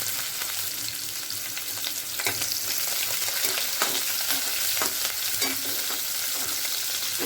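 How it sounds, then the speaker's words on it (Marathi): Finely chopped onion sautés in hot oil with curry leaves for a jackfruit seed amti. A dense, even sizzle runs close and loud, with a few sharper stirring scrapes and taps. No one speaks. "त्यानंतर एक बारीक चिरलेला कांदा घालायचा आणि कांदा परतून घ्यायचा कांदा अगदी मऊ होईपर्यंत आपल्याला परतायचं आहे"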